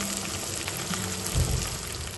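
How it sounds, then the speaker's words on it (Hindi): Chopped garlic and onion fry in a pan with a steady close sizzle that grows briefly louder toward the end, and no talk. "उसके बाद इसमें डालते हैं कटे हुए लहसुन, लहसुन हो गया तो प्याज भी ऐड कर देते हैं सारी, और प्याज अच्छी तरीके से भून देंगे पहले।"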